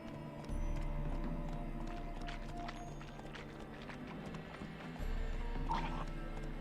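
Roach the horse galloping in The Witcher 3 game, rhythmic hoofbeats clip-clopping close by with a brief whinny, layered over a droning game score.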